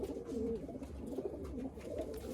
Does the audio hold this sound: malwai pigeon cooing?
yes